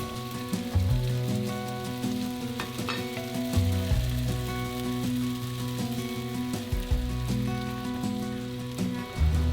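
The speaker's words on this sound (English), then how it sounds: "Once the sauce is reduced, add the beef in for a few seconds until each roll is covered with sauce." Beef enoki mushroom rolls sizzle and bubble steadily in a reducing sauce in a pan, a loud continuous crackle with occasional stirring and utensil knocks and no talking.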